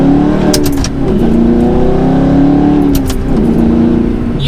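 A manual V8 car engine revs loudly and close, rising and falling as the driver rev matches through a turn, with a steady engine drone underneath.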